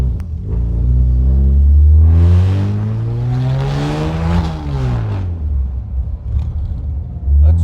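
A 1952 Jaguar XK-120 fixed head coupe engine warming up, loud and close, with a steady idle that swells into a rising rev, then falls back to a rough, rumbling idle.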